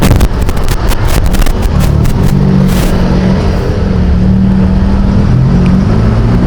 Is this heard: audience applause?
no